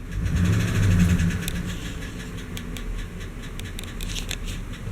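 Idling Chevy Silverado 5.3 V8 engine with a lifter tick, a steady close mechanical hum carrying a faint rapid ticking, louder at first and then settling slightly quieter.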